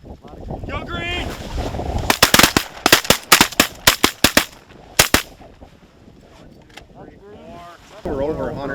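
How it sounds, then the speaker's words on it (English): Shotgun blasts from a duck hunt for mallards in a North Dakota blizzard, a rapid volley of about a dozen sharp, loud shots, with shouting voices before and after and wind noise behind. "We just shot our very last mallard."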